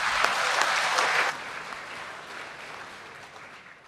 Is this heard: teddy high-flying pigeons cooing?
no